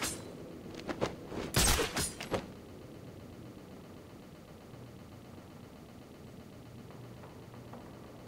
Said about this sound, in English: The gunshot came from the bell tower.